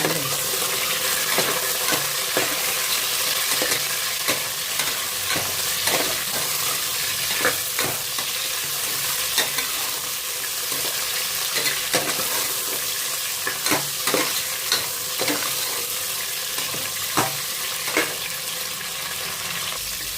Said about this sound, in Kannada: ಈಗ ಮಟನ್ ಹಾಕೋಣ, ಸ್ವಲ್ಪ ಹುರ್ಕೊಳ್ಳೋಣ